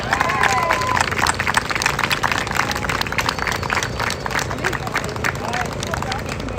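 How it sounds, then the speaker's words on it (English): A crowd at a justice march in Portland, Oregon breaks into sustained applause, with dense clapping, some cheers and background chatter from the gathered people throughout. "let's give them a round of applause for that"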